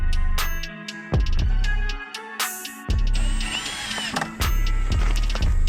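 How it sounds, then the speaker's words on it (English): A power drill drives a screw during a garage build, whirring in several short, loud, close bursts that rise in pitch, separated by brief pauses and light handling clatter. "I'm gonna have you hold this just so I can run a screw in"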